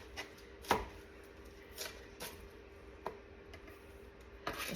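A knife chopping an onion on a cutting board, a handful of crisp, separated thunks at an unhurried, irregular pace, close and clear over a quiet room.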